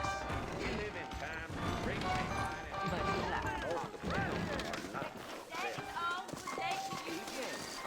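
Horse hooves clip-clopping in the Western video game Red Dead, mixed into a dense, busy game soundtrack with voices and other sounds, steady and fairly loud throughout.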